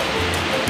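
Kawasan waterfall in Trinidad, Bohol, a loud, steady roar of rushing water that fills the brief moment without a break.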